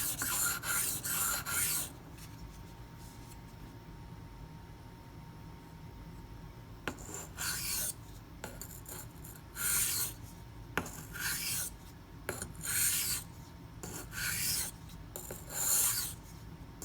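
A Ganzo FH51 knife is sharpened on a Razor Edge angle-guide system with silicon carbide stones, giving repeated bursts of bright rasping strokes separated by quiet pauses, close and clear with no talk.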